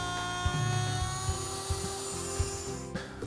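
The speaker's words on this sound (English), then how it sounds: "The easiest way to make this cut is on the router table." A router table cuts a slot into a pine shelf, a high, steady whine with a constant tonal hum and small knocks and shifts as the wood is fed through, close up.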